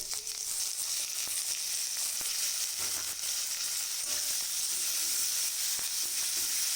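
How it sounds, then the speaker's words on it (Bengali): Ground coconut with sesame, chickpeas and nuts fries in a pan for vegetarian taro greens, giving a steady, close sizzling hiss dotted with faint clicks and taps of stirring, with no voices. "এটা একটু ভাজা ভাজা হয়ে গেলেই বেটে রাখা সেই নারিকেল এটা এবার দিয়ে দেবো"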